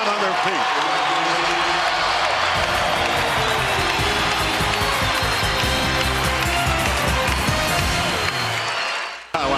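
Loud, continuous roar of an NBA arena crowd on its feet at the end of the third quarter of a Lakers vs Raptors game, filling the whole stretch before cutting off abruptly.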